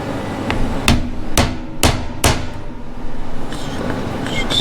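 Four sharp metallic hammer strikes on a hardened steel bearing roller jammed between spider gears, evenly spaced about half a second apart, close and loud over a low background hum, then quiet shop noise.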